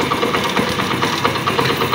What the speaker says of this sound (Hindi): थोड़ा सा एक्सीलेटर के ऊपर हाथ रख के बाइक को इस तरह स्टार्ट कर देना है।